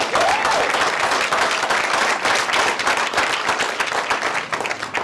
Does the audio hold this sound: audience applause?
yes